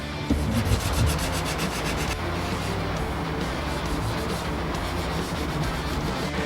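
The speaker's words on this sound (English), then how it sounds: "start with a round sanding block, and we're going to go ahead and just start sanding all of this area" Steady rubbing of a sanding block against wood, rhythmic back-and-forth strokes at first, then a continuous close, loud rasp.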